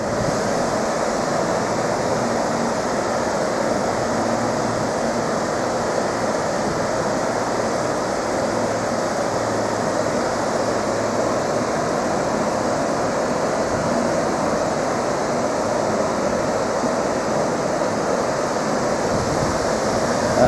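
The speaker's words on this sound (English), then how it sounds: "That's the overflow from Hartebeespoort Dam." Water overflows from Hartebeespoort Dam in South Africa in a loud, continuous broadband roar of rushing water that holds steady throughout without pauses or voices.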